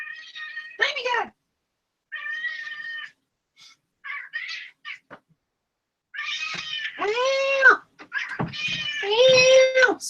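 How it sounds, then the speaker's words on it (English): A cat meows repeatedly indoors, loud and close, in drawn-out, rising and falling cries separated by short pauses, the calls growing longer and more insistent toward the end. "I just heard my cat Simon, so I'm gonna go ahead and let him in."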